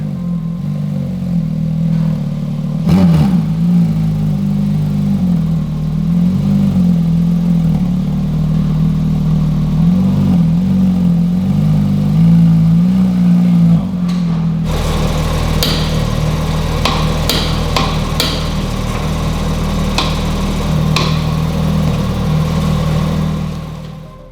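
A Porsche 992.2 GT3 sports car heading into the Swiss Alps, its engine humming loud and close with shifting pitch as it drives, then a rougher, clattering stretch in the later half.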